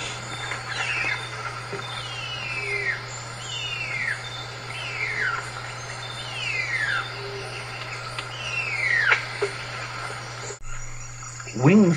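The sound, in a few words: bird of paradise male's call during mating display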